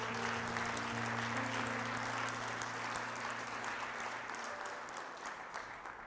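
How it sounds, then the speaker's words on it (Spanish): Church congregation applauding during a sermon, a broad, steady round of clapping over sustained low organ-like tones, gradually fading toward the end. "¿Puedes darle un fuerte aplauso a Dios?"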